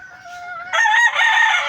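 Farm chickens give a short, loud, close crow that shifts into rough clucking calls, heard alone with no talk.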